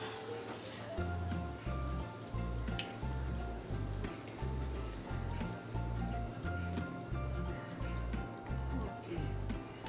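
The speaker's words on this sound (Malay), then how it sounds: "Kita goreng ya." Potato patties sizzle in hot frying oil, a constant crackling hiss with soft popping, heard fairly faint and steady throughout.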